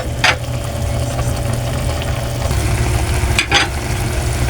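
Squid adobo simmering in a pan gives a steady close sizzle and bubbling, broken twice by sharp scraping stirs, with no voices.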